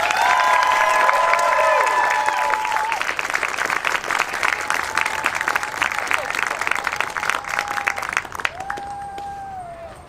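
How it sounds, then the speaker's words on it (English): Loud crowd applause with cheers and whoops for graduates at a school graduation ceremony, dense clapping that thins toward the end while a few voices call out over it. "let's give them a big round of applause"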